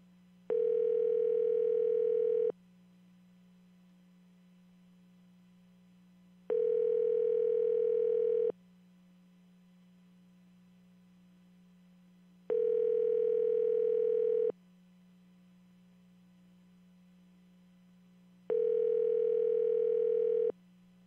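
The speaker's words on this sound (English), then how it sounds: "I hope I dialed right." A telephone ringback tone while a call is placed, four evenly spaced two-second buzzing rings separated by about four seconds of silence, over a faint steady line hum.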